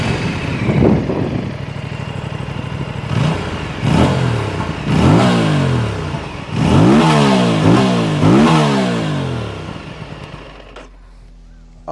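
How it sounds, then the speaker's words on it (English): An Aprilia RS 457 inline-twin motorcycle engine revs hard from idle, with repeated sharp throttle blips rising and falling in pitch. It is loud and close, then settles back to a low idle at the end. "It's inline twin, and let's first hear how it sounds."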